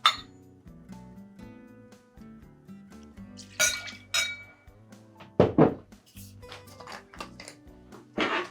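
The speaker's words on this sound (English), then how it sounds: "So now we're just going to go ahead and add ice to it, go ahead and chill it and dilute it as well." Ice cubes drop into a cocktail mixing glass holding rye, cognac, Peychaud's bitters and simple syrup for a Sazerac, giving a run of sharp clinks and glassy thunks at irregular spacing, close and crisp.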